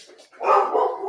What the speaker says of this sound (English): I don't know why the hell she's barking